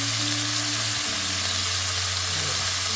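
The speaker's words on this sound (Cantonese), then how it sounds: "咁我哋就反轉去煎另一面。" Green onion rolls wrapped in thin slices of black pork fry in a pan, giving a steady, even sizzle that stays close and continuous with no talking.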